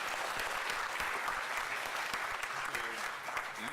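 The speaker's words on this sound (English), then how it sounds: "Can we have a big round of applause?" Steady round of applause from a seated conference audience at a university event on education, continuous clapping at moderate level throughout, fairly distant in a large hall.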